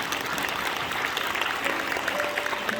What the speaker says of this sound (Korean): 박수 한번 쳐드립니다.